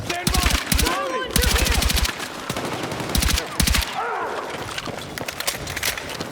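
Intense Battlefield 6 night-raid combat: bursts of rapid automatic gunfire repeat in loud sustained volleys, with single shots and dense battle noise between them.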